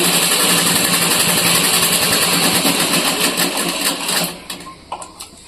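A sewing machine stitching a sack bag runs in a fast, loud, continuous mechanical rattle at close range, then slows and stops near the end with a few separate clicks.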